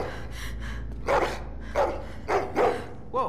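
A dog barking in The Walking Dead: The Final Season video game, about five loud close barks in an uneven rhythm over a low background hum.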